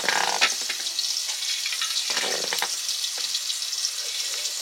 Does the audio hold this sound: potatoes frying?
yes